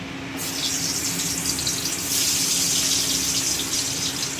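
Eggplant slices hit hot oil in a pan, bursting into a loud, steady rushing sizzle that swells slightly partway through and continues alone.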